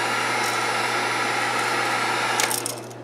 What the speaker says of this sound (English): so I bought a heat gun.